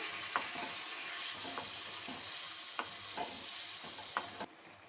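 Capsicum sabzi sizzles in a pan after half a cup of water goes in, and a spoon stirs it with several sharp scrapes against the metal before the sizzle drops quieter.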